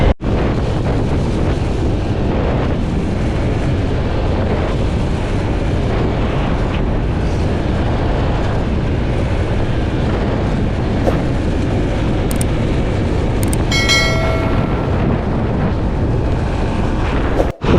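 A stock Honda Click 160 scooter rides at speed, with steady, loud headwind roar buffeting the microphone throughout and no talking.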